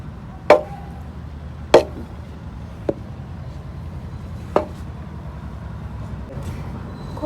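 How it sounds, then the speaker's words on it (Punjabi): A metal scraper works through panjiri in a kadhai, giving several sharp clanks and knocks at irregular intervals over a low background rumble. "ਹੁਣ ਆਪਾਂ ਖੁਰਚਣੇ ਨਾਲ ਇਹਨੂੰ ਐਸ ਤਰੀ ਰਲਾ ਲਾਂਗੇ ਜੀ ਆਪਾਂ ਬਾਰ-ਬਾਰ ਬਾੜ ਦੇ ਕੇ"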